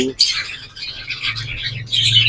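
Caged pet birds with eggs and young chicks chirp and tweet in busy, overlapping bursts, close and fairly loud, with a short low squawk at the start and a faint hum underneath.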